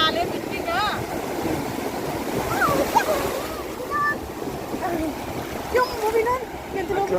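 Beach waves at Visakhapatnam wash and splash steadily nearby, and people talk over the surf throughout.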